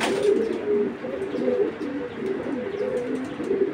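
Racing pigeons coo in a continuous low, warbling stream, several birds overlapping close by with no one talking.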